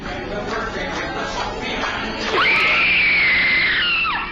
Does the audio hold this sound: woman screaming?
yes